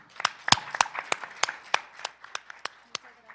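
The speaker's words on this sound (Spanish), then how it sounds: "Les damos un aplauso antes de empezar." Scattered applause from a small audience before a book presentation, individual claps distinct and uneven, fairly quiet in the room.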